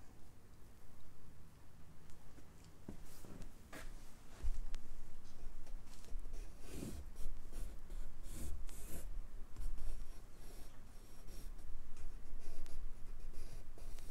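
Pencil sketching on paper during an album-cover art session, soft scratchy strokes and rubbing in irregular bursts, close but quiet, continuing for many seconds.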